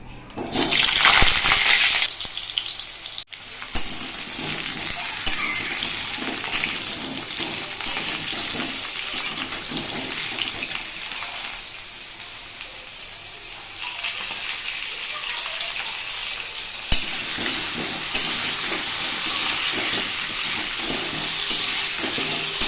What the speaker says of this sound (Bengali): তেল গরম হয়ে গেছে এবার আমি আলুগুলোকে ভেজে নেবো